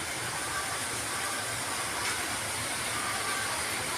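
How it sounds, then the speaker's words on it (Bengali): Heavy rain pours in Mumbai during Durga Puja, a dense, even hiss that fills the whole moment without a break and sounds fairly quiet, as if heard from indoors. "দেখো, তোমরা নিশ্চয়ই বৃষ্টির শব্দ পাচ্ছ"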